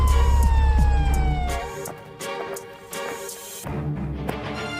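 Police siren in an animated Hindi story, a wailing tone sweeping down and repeating, loud and close over a low rumbling background, with no speech.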